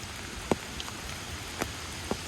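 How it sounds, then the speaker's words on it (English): Light rain falls outdoors on a gloomy day, a soft steady patter with a few distinct drips landing nearby. "It's still raining."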